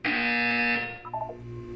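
A loud, steady electronic buzzer from the game Portal 2 drones for about three quarters of a second, then gives way to a short run of softer beeping tones with a low hum underneath.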